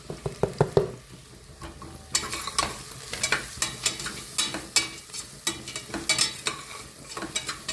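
Peanuts with coriander powder and turmeric sizzle in oil as a spatula scrapes and stirs them around the pan in quick, repeated strokes, with no one talking.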